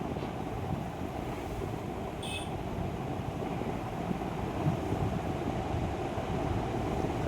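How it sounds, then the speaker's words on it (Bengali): Strong wind blowing steadily outdoors before a rainstorm with lightning, a dense continuous roar with buffeting rumble on the microphone that holds loud and unbroken throughout, with no voices. "প্রচণ্ড হাওয়া হচ্ছে, তোমরা নিশ্চয়ই বুঝতে পারছো"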